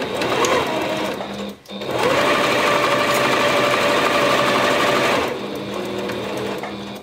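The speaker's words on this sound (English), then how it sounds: "I'm just gonna make sure that I start stitching probably about 6 inches away from the bottom of the blanket." A sewing machine runs close up, stitching tags onto a baby blanket with a steady rapid whirr. The motor pauses briefly, then resumes and drops to a slightly lower speed near the end.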